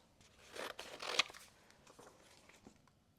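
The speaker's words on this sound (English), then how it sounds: "I'm gonna get some scissors." Scissors snip through sheets of paper while cutting stencils for a gouache floral painting, giving a few short crisp crunching cuts close by, loudest in the first half before fading to quiet rustling.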